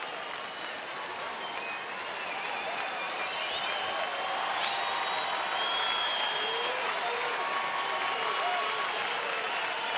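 Baseball crowd in a stadium applauding and cheering steadily for the pitcher Matt Garza, who needs one final out on a full count with two outs; a dense, continuous wall of clapping that swells slightly over time.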